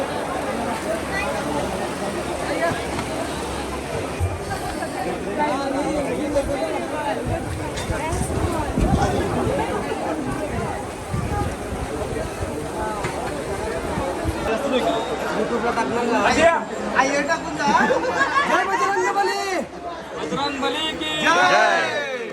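Dense crowd chatter fills a busy communal mahaprasad meal at a Hanuman Jayanti gathering in Bamandongri, a steady hubbub of many overlapping voices with a nearer voice speaking over it.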